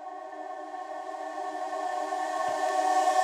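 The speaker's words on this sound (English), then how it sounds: "some reverse reverb, great trick. You can hear it building up." A reverse reverb effect on a vocal in a mix swells upward, a sustained tonal wash of smeared voice that grows steadily louder over a few seconds, with no plain talking over it.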